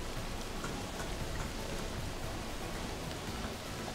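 Steady rain in the farming game Professional Farming Cattle and Crops, a dense, even hiss of falling drops that stays constant throughout with no talking.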